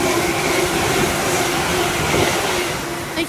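A train passes straight through platform 1 at Cheddington station without stopping, a loud, close, steady roar with a sustained low hum that eases slightly at the very end.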